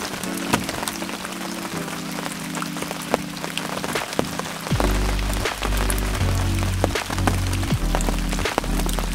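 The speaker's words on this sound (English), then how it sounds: "The rain has eased off a little bit, but it still is raining." Steady rain falls at a carp fishing spot by the water, a dense patter with sharper drops striking nearby surfaces, the hiss growing heavier and lower partway through and continuing without pause.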